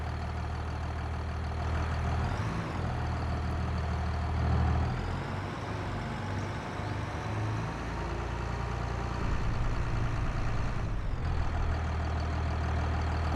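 A tractor engine in a farming video game runs steadily with a low, droning rumble, rising slightly in pitch and load a few times before settling back to a constant hum.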